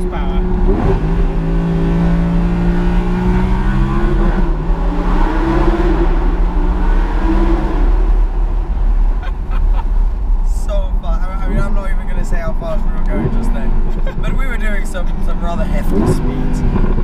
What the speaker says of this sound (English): it's one of the best all-round supercars out there